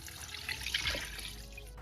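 Chicken broth poured into an Instant Pot, a faint, steady liquid splash and trickle lasting under two seconds, with no voices.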